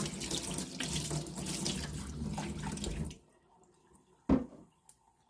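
A kitchen tap runs steadily while herbal tea ingredients are rinsed, a full close splashing rush for about three seconds that then shuts off, leaving a couple of faint drips and clinks.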